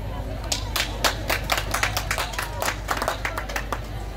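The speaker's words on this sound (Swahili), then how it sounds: "Makofi tafadhali kwao." A crowd claps at a secondary school graduation ceremony in Kisungu, steady overlapping applause with dense, lively hand claps at close range, continuing throughout.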